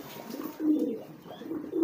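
Soft, low pigeon cooing in a few rolling phrases, fairly close, with faint background noise and no talking.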